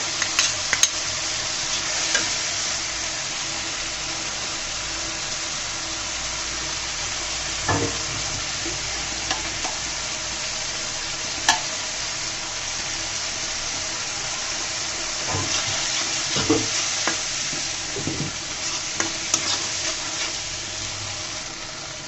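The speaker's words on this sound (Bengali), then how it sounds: "শুটকিগুলোকে আমি একটু তেলের মধ্যে ভাজা ভাজা করে নেব।" Dried fish (shutki) frying in oil, a steady close sizzle with occasional stirring scrapes and pops throughout, alone with no talk.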